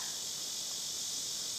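Locusts chirp outdoors in a steady, continuous high-pitched buzzing drone, faint and unbroken, with no voices.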